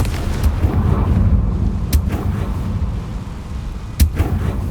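A Confringo fire spell from Hogwarts Legacy lands as a loud, sharp blast, followed by a second distinct burst a couple of seconds later over a dense, rumbling game background.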